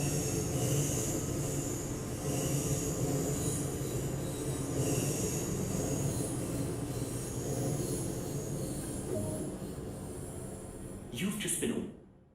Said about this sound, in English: Oh, that ice train sounds good. I want to hear this depart.